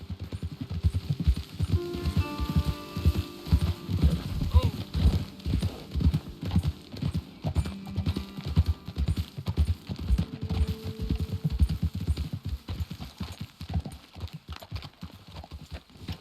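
Horses' hooves clip-clop steadily on a trail in Red Dead Redemption 2, the rhythmic thuds close and continuous, with occasional tack jingles and game ambience underneath.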